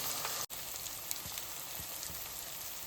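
A little ginger garlic paste and a pinch of turmeric frying in a pan, a continuous soft sizzle with scattered light pops and one brief dropout near the start.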